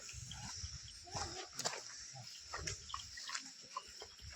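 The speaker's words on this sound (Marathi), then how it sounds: "डॉगी आलेले आहेत" Several dogs bark intermittently at a distance in a village near Mahabaleshwar, short irregular barks scattered over a noisy outdoor background.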